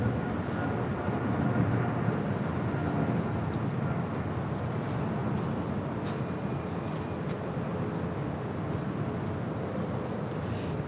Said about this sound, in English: This is China Southern Cargo Flight 472 departing to Guangzhou on a 777 freighter.